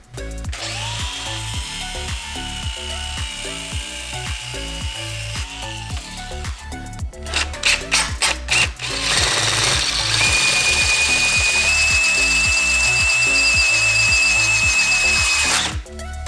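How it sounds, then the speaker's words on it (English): Loud, close power-tool work grinding off and drilling out a metal fitting: a whining drill with choppy bursts, then a steady high-pitched grinding screech that runs on for several seconds. "I'm gonna grind this off, drill out this fitting"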